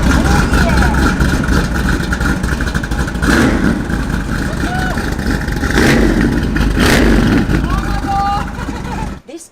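A 2020 Ferrari F8 Tributo's engine revs loudly and continuously with the nitrous switch on, rising in repeated surges under a dense roar, while a person speaks over it.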